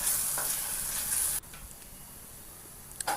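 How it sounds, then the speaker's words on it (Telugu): Masala fries in oil on low heat with a faint, steady sizzle. A brighter hiss in the first second and a half drops away abruptly, leaving a quieter crackle with a few small clicks. "సిమ్లో పెట్టేసి ఒక ఫైవ్ మినిట్స్ పచ్చివాసన అంతా పోయేలా ఈ ఆయిల్లో వేయించాల"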